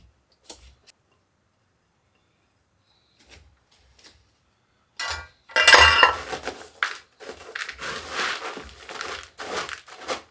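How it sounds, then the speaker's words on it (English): Potatoes tossed with butter in a large bowl: after near silence with a few faint taps, a spoon rattles and scrapes against the bowl in repeated clattering bursts, close and moderately loud, with no talking. "Now, let's take our half a cup of butter and give those a good toss."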